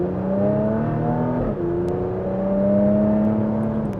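A 2025 Porsche Macan GTS accelerating at half throttle, its engine note rising steadily and loudly, dipping briefly at a quick gear shift, then climbing again.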